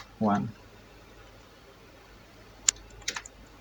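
A few sparse, crisp key clicks on a computer keyboard enter a network interface command, with a short burst of sound at the start and quiet room tone between keystrokes.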